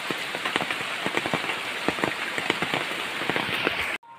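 Steady rain pattering on a hard surface, close and fairly loud, with scattered heavier drops, cutting off abruptly near the end.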